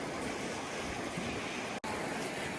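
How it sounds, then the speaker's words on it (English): Savage River in Denali National Park rushing along a relatively flat trail, a steady, dense broadband roar of flowing water close by, continuous with only a momentary dropout near the end and no talking. "So behind me is the Savage River."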